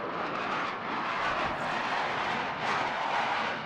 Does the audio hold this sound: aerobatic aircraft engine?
yes